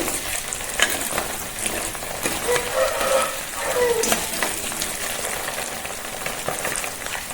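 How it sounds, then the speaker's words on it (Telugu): Eggs frying in hot oil with turmeric, part of a spicy egg karam dish, give a steady close sizzle with occasional stirring scrapes and crackles throughout, no voices. "గుడ్లు కొంచెం సేపు నూనెలో వేగితే టేస్ట్ చాలా బాగుంటుంది."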